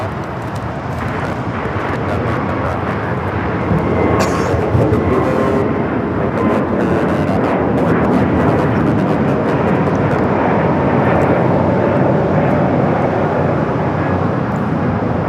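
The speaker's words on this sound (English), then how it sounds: "This is Spirit Airlines 1671 taking off to Dallas Fort Worth on the A321 Neo." A Spirit Airlines A321neo takes off at LAX, its jet engines building into a loud, sustained roar that swells and holds steadily for many seconds.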